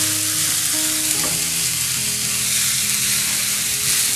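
Chicken wrap filling with green onion frying in a pan, a steady loud sizzle with stirring and faint utensil scrapes throughout, no talking.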